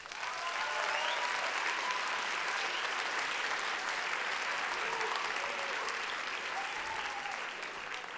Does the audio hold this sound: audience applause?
yes